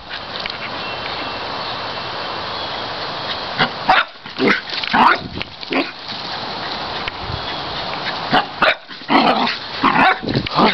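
A dog barks in loud bursts after a steady noisy stretch, with several sharp, close barks and grunting sounds spread across the second half.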